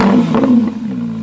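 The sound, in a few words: Porsche GT3 RS with JCR exhaust starting and revving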